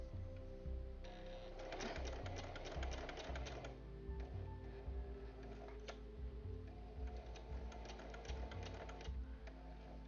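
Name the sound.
sewing machine with walking foot sewing quilt binding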